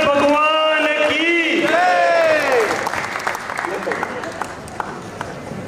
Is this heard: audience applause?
yes